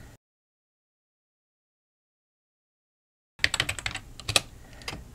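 Rapid typing on a computer keyboard, entering a password: a burst of quick, close key clicks that starts after a long silence.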